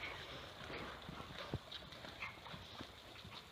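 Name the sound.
horse hooves cantering during dressage lesson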